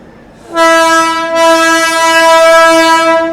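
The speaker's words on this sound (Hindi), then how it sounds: "F5 के साथ आ रही है 54391 अलीगढ़ गजरौला जंक्शन पैसेंजर।" Loud, sustained horn of a passenger train arriving at a station on an Indian railway line, a steady multi-tone blast with a brief break in the middle, close and dominant.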